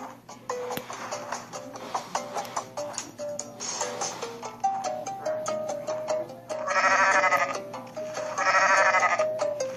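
A goat in the video game Goat Simulator bleats loudly in two long, drawn-out calls near the end, over game music and scattered clicks.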